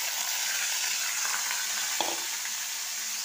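Soaked rice dropped into hot oil with tempering spices sizzles loudly and continuously in a pan, a dense close frying hiss with one brief stir knock partway through.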